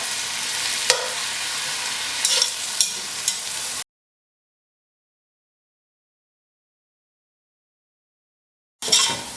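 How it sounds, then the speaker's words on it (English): Onions and spices frying in a pot for lamb pilau, a close crackling sizzle with a few sharp clicks, cut off by a long stretch of silence before the frying sound returns briefly at the end. "So we need to brown them to a good chocolate brown color."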